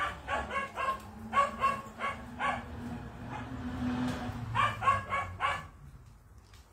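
A dog barks in quick bursts of sharp yips, close and fairly loud, with short pauses between the groups of barks and a low hum running underneath.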